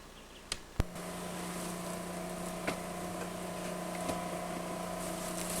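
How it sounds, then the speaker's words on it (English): A steady low drone from an Army Corps of Engineers river barge engine hums in the background, with a few sharp clicks and taps over it. "the noise you hear in the background is a barge from the Army Corps of Engineers"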